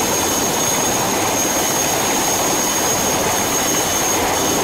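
Loud, steady jet-turbine whine of a military helicopter engine, continuous and unbroken with a high tonal line over broadband roar, no voices.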